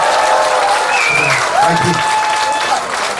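Concert audience at a Chuseok holiday trot performance clapping for a singer: loud, dense crowd applause with voices and cheers mixed in, steady throughout.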